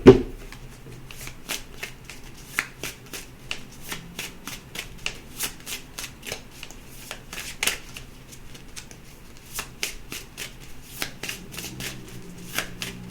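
Tarot cards being shuffled by hand, a long run of crisp riffling snaps and soft slides in an irregular rhythm, close and quiet, with no talk.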